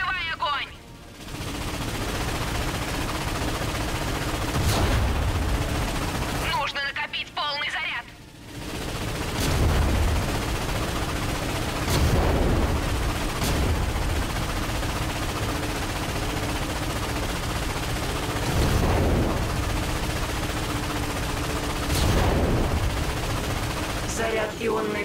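Turret gunfire from a ship-shooting battle in the Ratchet & Clank video game, with steady repeated bursts and booms over a continuous din of game noise, broken by short pauses and a few voiced lines.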